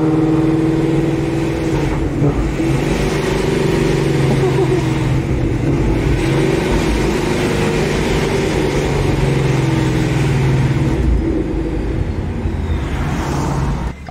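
Procharged Ford Mustang cruising on a road trip, a continuous loud engine drone with a rising whine and revs swelling and easing, heard from inside the car with road noise.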